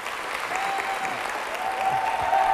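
An audience at a live comedy show claps in a dense, sustained burst of applause. The clapping swells slightly toward the end, with no speech over it.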